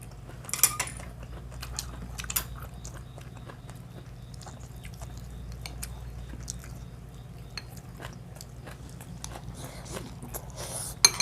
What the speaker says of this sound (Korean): 들깻잎 부친 거 갖다 먹어